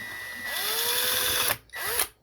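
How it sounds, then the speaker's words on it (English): A power drill bores at an angle through a wall, whining steadily up close as the pitch climbs under load, then cutting out briefly before one more short high burst and a stop. "and then just drill this at an angle."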